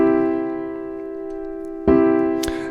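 Major triad chord sounding on a single held, sustained tone, then a second chord struck sharply near the end, both close and clear with no talking.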